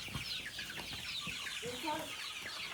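Baby chickens in a large batch of about 500 chicks being moved to a new barn home, giving soft scattered clucks and chirps against a steady busy background, with brief faint voices.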